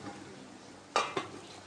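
A lid is set onto the pan of uttapam on low heat: two quick metallic clanks close together against a faint background hiss, no talking.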